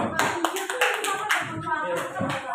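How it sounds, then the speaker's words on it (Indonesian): A class clapping hands in applause, a short run of distinct claps from a few people close by, mixed with talk and laughter. "Oke, bagus, tepuk tangan."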